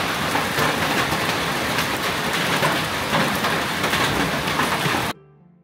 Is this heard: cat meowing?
no